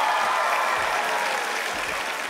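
A crowd applauds a magic act on a talent show stage, a dense, steady wash of clapping that holds evenly for a couple of seconds with no voices over it.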